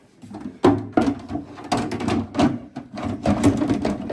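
A replacement battery for an Acorn/Brooks 130 stairlift is pushed and slid into its housing, giving a close run of plastic scrapes, knocks and clunks that come in uneven bursts, with no talk.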